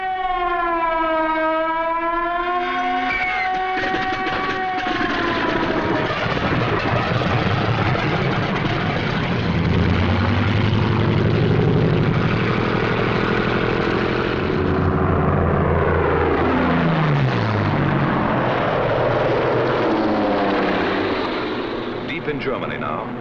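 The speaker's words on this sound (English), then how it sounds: "a group of escorting Mustangs watches every corner of the sky" Multiple escorting P-51 Mustang fighters in flight over Germany, from a 1945 Eighth Air Force WWII film, heard as a loud, continuous engine drone with rising and falling pitch sweeps like a siren, under narration.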